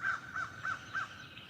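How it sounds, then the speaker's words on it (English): Crows caw outdoors in a backyard, four evenly spaced harsh calls at moderate distance, fading slightly toward the end, with no talking. "What are the crows doing?"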